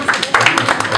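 Conference audience clapping in scattered bursts, close and uneven, with a voice talking over the applause.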